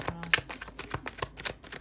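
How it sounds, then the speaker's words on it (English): A deck of tarot-style cards being shuffled up close, with quick riffling bursts and soft slaps repeating in an irregular rhythm, no voice over it. "Shuffle the deck on camera."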